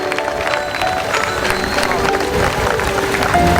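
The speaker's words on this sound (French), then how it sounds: "Vous pouvez les applaudir." Crowd applause for a chauffeur and a marquise at a vintage car rally, steady clapping mixed with murmuring voices and a faint tone throughout.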